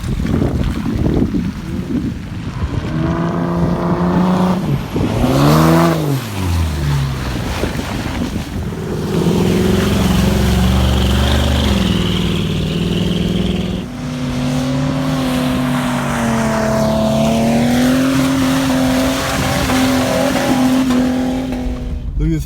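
Jeeps and trucks revving through sloppy off-road mud at 5 Mile Pass, Utah, a loud engine drone rising and falling throughout with heavy wind buffeting the microphone.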